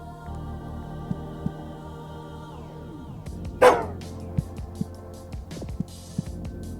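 In the horror video game Psychopomp, a single loud, harsh bark rings out from a monstrous dog creature amid a droning, eerie soundscape, with scattered clicks and thumps around it and no talking.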